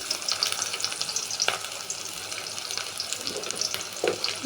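Onion dropped into hot oil frying for a yardlong bean stir-fry, a bright hissing crackle that stays steady and close, with a few faint utensil taps.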